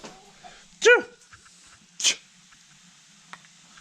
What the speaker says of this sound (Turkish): Cemo. Arkadaşlar Cemo normalde bizim köpeğimiz değil